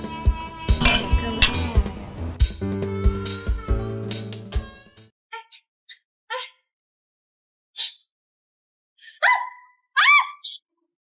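Glasses clink together in a toast among a group of young men: a few sharp, bright taps after a stretch of dense background sound, then silence broken by short scattered noises.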